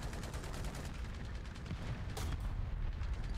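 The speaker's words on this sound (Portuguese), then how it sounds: "Tomei tiro da esquerda e da direita." Dense bursts of video game gunfire crackle continuously over a rumbling battle din, loud and busy with no pauses.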